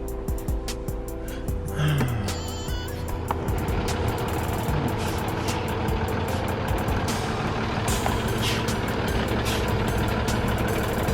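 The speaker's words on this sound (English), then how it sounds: "Y'all can see that big ass truck right there." A big truck idles and rumbles close by, with a hiss of air brakes and short beeps amid steady engine noise and clanks, no talking.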